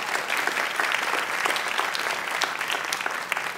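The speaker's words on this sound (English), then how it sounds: "You can give them a round of applause now if you would like to." Audience applause for the panelists at a Houston Ballet dance talk, a dense, steady wash of many hands clapping close by, sustained evenly for a few seconds with no voices.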